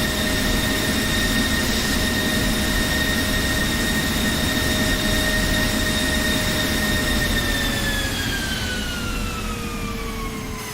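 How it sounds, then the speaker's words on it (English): An F-16 jet engine in DCS World shuts down: a loud steady turbine whine with droning roar holds, then the tones slide downward as the engine spools down near the end. "And let's go for engine shut off."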